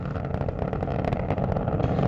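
Space Shuttle Atlantis's three liquid-fuel main engines during the STS-135 launch ascent, a dense crackling roar with rapid rough pulsing, loud and continuous, no voices.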